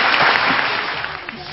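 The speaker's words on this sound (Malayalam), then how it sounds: "ചേച്ചിക്ക് ഒരു ബിഗ് ക്ലാപ്പ് കൊടുക്കൂ" An audience claps in a brief, dense burst of applause, with voices faintly mixed in.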